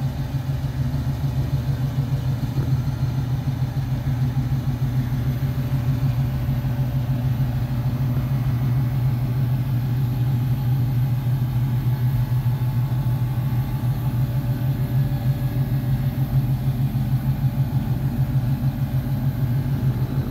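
A 1969 restomod Camaro RS convertible idling: a steady, deep, low engine rumble with a constant throb, close and unchanging for the whole stretch, with no talking.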